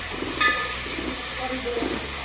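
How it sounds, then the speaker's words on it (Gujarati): Grated tomatoes go into a pan of frying onions and chillies for sambar and are stirred, giving a continuous soft sizzle and hiss with scraping stir strokes close by. "હવે આપણે છે ને આ નાખશું ટમેટા, ખમણેલા ટમેટા થોડી નાખી દઈશું."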